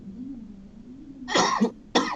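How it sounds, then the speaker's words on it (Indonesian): Two loud, harsh coughs close to the mic during a health webinar, the first a sustained burst and the second a short sharp one after a brief pause, over a low background hum. "Jadi saking semangat saya batuk tuh sampai ya."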